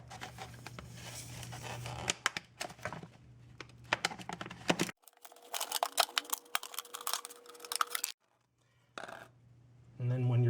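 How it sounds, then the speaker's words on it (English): A razor knife folded out from a quick-release attachment cuts across the bottom of an object: dry scraping and crinkly cutting strokes come in bursts with clicks between them, a steady low hum underneath, and a short quiet gap near the end. "now opens up into a razor knife. I'm going to cut the bottom of this."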